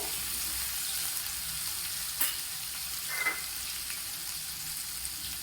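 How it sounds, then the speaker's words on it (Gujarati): Ginger, garlic and green chili paste sizzles and fries in a pan with steady broadband hiss, broken by a couple of brief stirring scrapes partway through. "ત્યારબાદ આદુ લસણ અને મરચાની પેસ્ટ તેને બરાબર હલાવી લઈએ"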